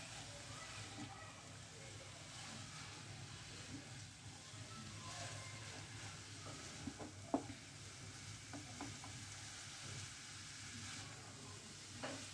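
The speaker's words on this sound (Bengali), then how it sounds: "এখন এই গাজরটাকে খুব ভালো করে ঘিতে ভাজবো।" Carrots fry in ghee for carrot halwa, a steady low sizzle with soft scraping stirs and a few sharp utensil clicks, while someone talks over the cooking throughout.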